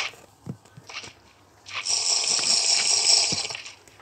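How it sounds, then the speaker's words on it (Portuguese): Minecraft drinking sound effect as a character drinks coffee in the game: a few short gulping blips, then a brighter, steady slurping gush for about two seconds, fairly close and clear with no talk. "vou tomar meu café"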